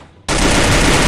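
Scar Titan rifle gunfire in a mobile shooter game, a loud close burst of rapid automatic shots that cuts in abruptly after a brief quiet moment and continues as sustained fire.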